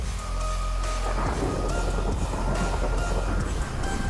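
A thunderstorm in the Minecraft Raft video game at sea: a loud, continuous rumble of thunder with heavy rain hiss and no talking.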